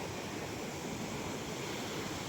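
Ocean waves breaking close on an eroding beach at Bucana near white resort buildings, a dense continuous rush of surf with no clear individual crashes, moderately loud and steady.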